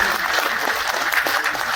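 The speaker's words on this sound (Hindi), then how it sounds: "एक बार ताली बजा दीजिए" An audience of lawyers claps at a gathering, a short burst of dense, even applause heard on its own without talk.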